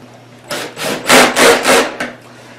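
A cordless drill drives a Kreg pocket hole screw into a piece of MDF, close up and fairly loud, with five grinding, rasping bursts that swell and fade in a steady rhythm over a low, constant motor hum.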